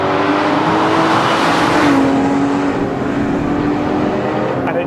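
Porsche 911 GT3 RS with a 4-litre engine accelerating hard and dropping gears, a loud, close, continuous roar with a rising tone that dips as a gear changes midway.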